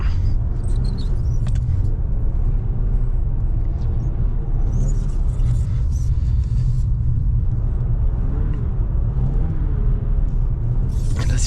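A BMW M3 engine drones with a constant low rumble while driving on ice, loud and close throughout, with occasional faint rattles and no voices.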